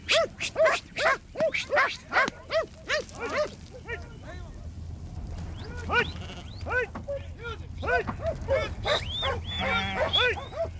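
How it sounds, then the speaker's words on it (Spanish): Dogs bark in quick bursts amid a flock of sheep bleating loudly and repeatedly on open ranch pastures in Magallanes, with a low steady rumble underneath and shouting voices mixed in. "los balidos de las ovejas, los gritos de los ovejeros y los ladridos de los perros continúan resonando en las praderas"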